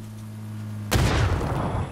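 Grenade exploding in a video game, a single sudden close boom that cuts in after a low steady hum and then rumbles away with crackling debris.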